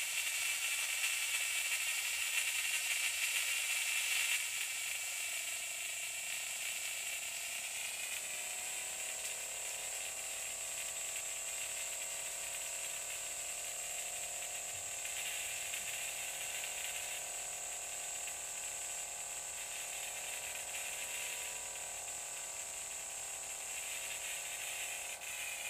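Rotary spark gap on a spark gap Tesla coil winding down, a steady high whirring buzz with bright upper bands that slowly settles and falls in pitch, loud and alone with no voices.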